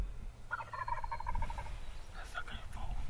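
A wild turkey's rapid, rattling gobble rings out at mid distance, followed by a few shorter yelps over a low outdoor hum.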